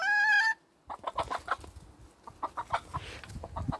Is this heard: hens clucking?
yes